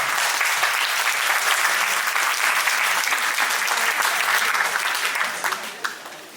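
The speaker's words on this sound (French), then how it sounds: "applaudissez-la." A hall audience at a Lourdes-related association's day gathering breaks into sustained, thick applause, loud and continuous, then thinning and fading in the last second.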